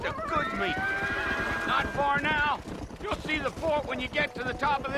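A horse in the video game Red Dead Redemption neighs and its hooves clop, mixed with game sounds while someone talks over it.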